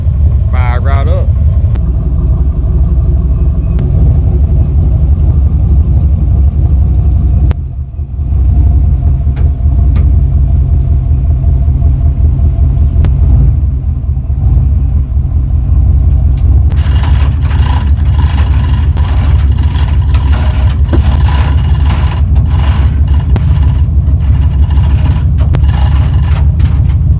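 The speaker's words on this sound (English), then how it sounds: "Let's see how she cold starts on this fine Friday morning" A 1993 GMC Sierra pickup with a small-block 350 V8 runs steadily just after a cold start, a loud continuous close engine drone with one brief dip partway through and louder broadband noise toward the end.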